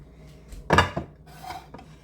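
A metal pan is picked up and set down on a kitchen counter, giving one loud clattering knock followed by a few lighter scrapes and clinks nearby.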